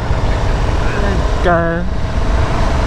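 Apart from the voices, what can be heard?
2021 KTM Super Duke R two-cylinder motorcycle engine running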